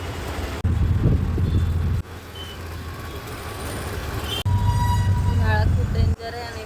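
Street traffic on a hot day near an electric market: a steady roar of car and truck engines with low rumbling surges, wind buffeting the microphone, and occasional high tonal beeps from passing vehicles.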